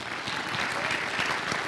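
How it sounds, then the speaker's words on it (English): An audience claps steadily and fairly loudly for a scout troop at a spring Court of Honor, a dense continuous applause that fills the whole moment. "I think they deserve an amazing round of applause"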